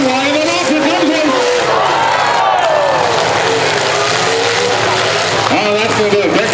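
Pickup trucks grind and collide in a limited-weld demolition derby, engines droning continuously with scraping, squealing tones and a crowd murmuring underneath, all dense and fairly loud.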